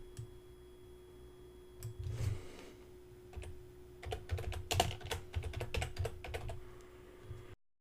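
Keys clatter on a computer keyboard as a web page title is retyped while building a WordPress portfolio site, a quiet run of close, uneven clicks with a brief burst of noise partway through.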